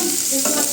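Chopped onions sizzle loudly in hot white oil in a kadai, a steady close-up frying hiss filling the short moment.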